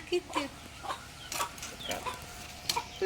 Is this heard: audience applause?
no